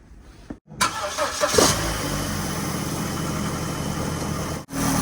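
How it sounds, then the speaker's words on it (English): A Vauxhall Corsa cranks briefly, catches and settles into a steady close idle after a thermostat change, the engine noise loud and continuous for several seconds before a short dip at the end. "I'm going to start the car now."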